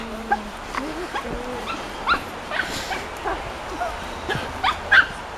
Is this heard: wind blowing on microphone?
no